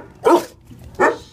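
A dog at an animal shelter gives two loud, close barks about half a second apart, with a quiet pause between them and no one talking.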